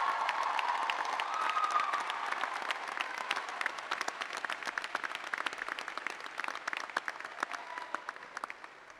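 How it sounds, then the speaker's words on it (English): Sustained applause from a large audience at a university graduation ceremony held in a church, a dense wash of clapping that stays steady and gradually thins toward the end. "a round of applause for the gardeners and the custodians who made this church and this space"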